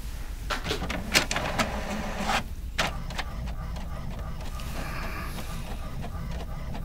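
A copy store machine runs with a steady mechanical hum and rolling whir, punctuated by a few clacks and sliding thumps near the start, fairly quiet and close, with no talking.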